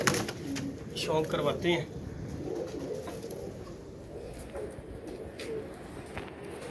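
A newly paired couple of pigeons, the hen sitting on eggs, coo softly and repeatedly, close by, while someone talks over them.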